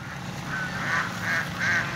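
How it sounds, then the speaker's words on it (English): Ducks calling on a pond, a series of four rhythmic quacks close by, heard over a low background rumble with no talk. "These ducks are really spoiled over here."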